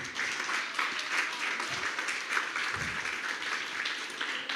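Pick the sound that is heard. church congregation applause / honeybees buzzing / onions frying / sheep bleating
church congregation applause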